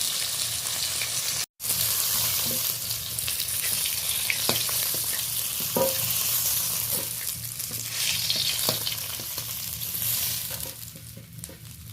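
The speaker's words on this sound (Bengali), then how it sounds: "তিন পিস ভাজা হয়ে গেছে আরও তিন পিস রয়েছে সেমভাবে ভেজে নেব" Pieces of koi fish fry in hot oil with a steady, dense sizzle that carries on for the whole stretch, broken only by a brief dropout and a few faint clicks of stirring.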